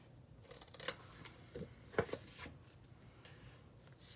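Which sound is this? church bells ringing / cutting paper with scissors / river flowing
cutting paper with scissors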